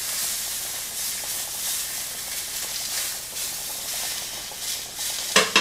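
Sausage, onions and peppers sizzle steadily in a frying pan, a continuous hissing fry with a few louder pops and clatters near the end.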